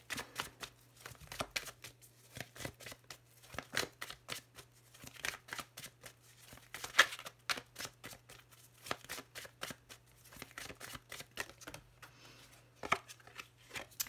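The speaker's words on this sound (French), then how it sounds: "je vais faire une petite coupe avec le tarot" Tarot cards being cut and shuffled by hand, a steady run of quick papery flicks and riffles close to the mic, with a low steady hum underneath and no talking.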